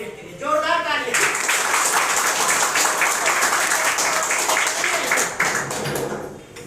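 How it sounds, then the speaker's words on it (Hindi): An audience bursts into dense, sustained clapping that fills several seconds before tapering off, following a brief spoken introduction. "जोरदार तालियां"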